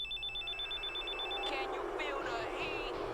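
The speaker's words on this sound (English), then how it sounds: "Let's get that Eddie theme with the weird ringtone at the start for some reason." A warbling, electronic telephone-style ringtone trills steadily at the start of Eddie Guerrero's entrance theme in WWE Smackdown! vs. Raw 2006, then gives way to louder crowd and music sounds.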